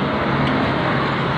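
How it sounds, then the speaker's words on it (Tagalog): Road traffic passing beneath a bridge, a steady dense roar of cars and heavier vehicles heard from above, continuous and fairly loud with no talk. "Daming sasakyan sa baba"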